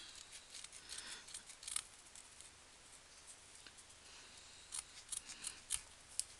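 Scissors snipping material while making an Easter bunny gnome craft, quiet close cuts in small bursts, sparse at first and then a quicker run of snips near the end, with no talk.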